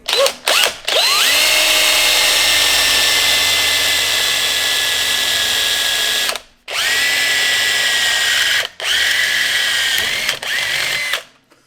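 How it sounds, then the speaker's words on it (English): A power drill with a 1/4-inch bit bores a hole through a metal plate, whining loudly and steadily in three long bursts separated by short pauses. "we're gonna drill us a nice little hole"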